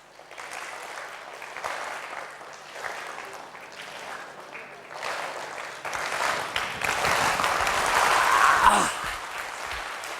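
Group clapping as an exercise during an anxiety-management session by the Brahma Kumaris at Mount Abu; claps start sparse and soft, then build into a louder, denser round near the end.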